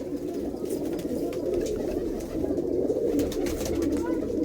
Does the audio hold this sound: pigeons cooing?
yes